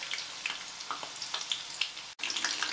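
Stuffed flowers fry in a small pan, giving a steady crackling sizzle with scattered pops, close and moderately quiet.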